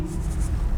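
Chalk scratches across a classroom blackboard during a lecture, a brief run of a few quick scraping strokes over a low room hum.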